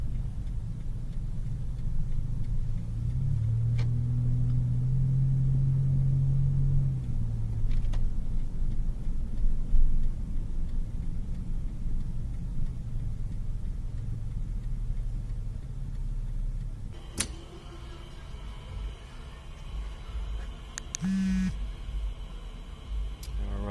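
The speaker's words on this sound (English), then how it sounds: "we're going to take a little test drive on the highway to get some driving footage" Car driving on the highway, a steady low road and engine rumble heard from inside the cabin for the whole stretch, with a few faint clicks and ticks and no talking.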